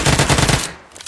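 Automatic gunfire in the mobile battle royale game PUBG Mobile, a quick burst of about six rapid shots lasting half a second before cutting off, loud and close.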